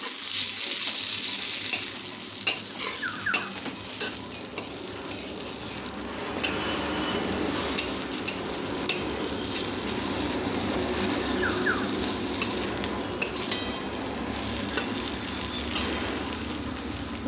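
Neem leaves and eggplant sizzle steadily in a hot pan, with a spatula scraping and stirring in repeated sharp clinks and scrapes over the continuous frying hiss; birds chirp faintly in the background.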